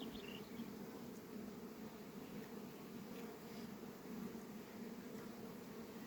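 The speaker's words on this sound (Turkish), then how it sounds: "Hava sıcak, arı çok sakin." A steady, dense hum of many honeybees buzzing close by at a hive on a hot day, continuous and even throughout with no voices.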